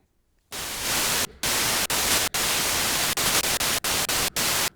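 The noise oscillator of a Sequential Prophet 6 synthesizer gives bright, loud broadband hiss in repeated bursts. The bursts are cut by short silent gaps with an uneven rhythm.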